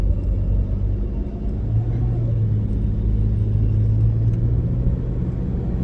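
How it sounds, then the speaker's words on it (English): Heavy road traffic in Chelsea forms a steady, loud rumble of car engines close by, with idling and slow-moving vehicles filling the whole stretch and no talk. "It's just so much traffic right now."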